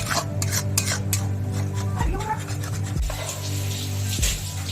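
Tomato and green chili paste being stirred into cooking spices in a pan for chicken malai curry, with a steady scraping and rubbing of a utensil against the pan and a low hum, up close.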